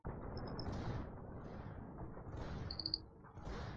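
Troops firing in a Medieval II: Total War battle make a dense, muffled rumble of volleys mixed with battle noise, continuous and fairly distant, with a few brief tonal blips over it.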